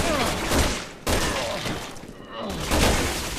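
Gunshots from the survival horror game Resident Evil 6 ring out in dense, overlapping combat noise. Sharp cracks land around the one-second and three-second marks over a constant loud background.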